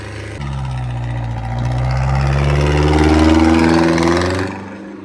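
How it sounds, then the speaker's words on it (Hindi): A Farmtrac 60 tractor labours while slipping in sand, its heavy diesel engine droning loud and close, then rising in pitch and load before cutting off sharply at the end. "देखो इस रेत में फिसल रहा ट्रैक्टर बहुत ज्यादा।"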